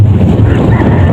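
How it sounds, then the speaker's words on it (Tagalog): Strong wind buffets the microphone on a small boat at sea, a loud, continuous low roar with no voices. "Malakas pa yung hangin."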